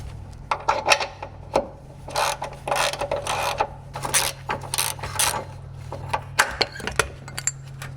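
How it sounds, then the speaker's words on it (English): A ratchet wrench works loose 15mm bolts under a car, clicking in quick bursts of ratcheting strokes with short pauses between, close and fairly loud. "I'm going to have to use the ratchet"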